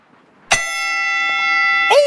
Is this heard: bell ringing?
yes